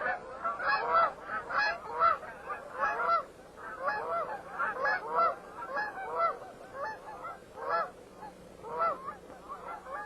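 A flock of dusky Canada geese keeps up a dense, continuous chorus of overlapping honks, fairly close and steady in loudness, with no voices over it.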